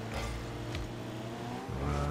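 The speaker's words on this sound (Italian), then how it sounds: "le macchine volano." Cars in the video game Rocket League on Nintendo Switch rev and rush with engine whine and tire noise, played fairly quietly with a short burst of louder motor sound near the end.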